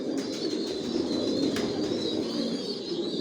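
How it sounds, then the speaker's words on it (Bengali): Imported racing pigeons in a loft coo in a low, continuous murmur, with a few soft chirps mixed in nearby. "এগুলো ইম্পোর্ট করা কবুতর, এগুলো আমার রানিং পেয়ার।"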